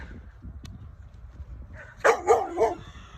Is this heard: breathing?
no